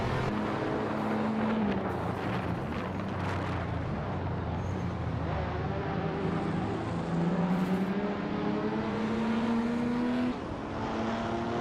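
A classic 1983 Porsche 911 Turbo races in a video game, its engine droning and rising in pitch as it accelerates and shifts, with other cars roaring nearby, loud and continuous.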